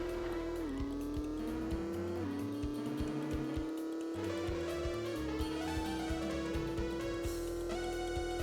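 A steady engine whine of a car in the video game Road Trip Adventure, with pitch shifting as it accelerates and slows, plus brief skidding tire noises, fairly quiet throughout.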